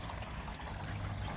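Water running steadily into a rain barrel tank, a soft continuous trickle and splash with no break, fairly quiet and close.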